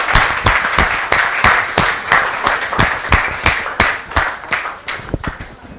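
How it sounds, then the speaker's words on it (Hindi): A crowd at a poetry gathering gives loud, close, sustained applause. The clapping pulses in a rhythmic, swelling pattern like a synchronized clap, with no speech over it. "एक बार जोरदार तालियों के साथ।"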